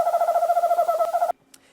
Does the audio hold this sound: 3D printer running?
no